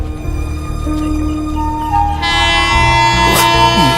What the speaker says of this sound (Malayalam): അയ്യോ, ട്രെയിൻ വിട്ടോ?